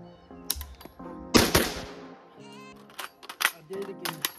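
AK rifle shots at an outdoor range, a few sharp cracks spread across a few seconds along with mechanical clicks and handling noises, fairly quiet overall.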